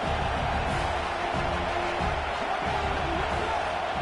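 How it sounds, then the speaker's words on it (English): Football stadium crowd roaring steadily on a third down as fans try to keep the opposing side pinned deep in its own end, a dense, continuous wash of noise with commentary-like talk mixed in. "this crowd trying to help keep them there"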